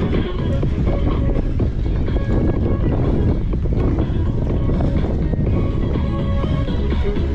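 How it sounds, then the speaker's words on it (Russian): Strong wind buffeting the microphone outdoors on a cycling route along the Crimean coast, a loud continuous roar with gusty low rumble and no talk. "Ветрено здесь."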